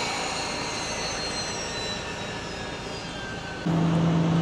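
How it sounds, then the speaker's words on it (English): An ATR aircraft engine runs on the ground in hotel mode as a steady, loud whine and rumble with a faint high tone gliding downward. Near the end the level jumps and a low constant hum takes over. "engine in hotel mode provides on-the-ground uh, electricity to run the airplane systems"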